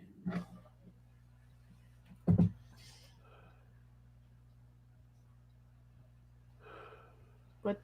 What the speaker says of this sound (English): Why are you breathing heavy?